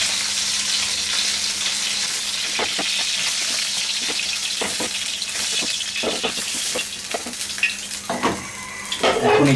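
Koi fish fry in hot oil in a Bangladeshi kitchen while cooking koi paturi, giving a steady loud sizzle. Scattered clicks and scrapes from turning the fish cut through, and the spattering grows busier toward the end.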